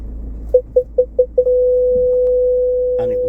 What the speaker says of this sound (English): So if you get too close to anything, it will beep and do all them kind of things.